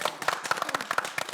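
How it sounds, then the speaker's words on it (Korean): A few people clap at a Gwacheon city council community program, sparse uneven hand claps in a short close burst with no talk. "박수 한번 부탁드립니다"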